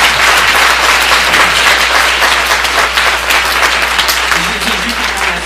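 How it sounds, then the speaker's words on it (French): Audience applause at a feminist-issues election debate, a dense steady wash of many hands clapping that stays loud and even for the whole stretch, with a faint voice briefly audible underneath near the end. "Vous pouvez les applaudir."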